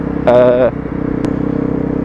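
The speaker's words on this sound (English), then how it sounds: "Lovely little rumble coming out of that exhaust." A Honda CRF250L motorcycle idles with a low, steady exhaust putter close by while someone briefly speaks over it.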